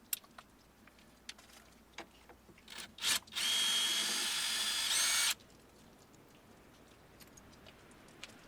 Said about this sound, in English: you get a star bit and just unscrew those two pieces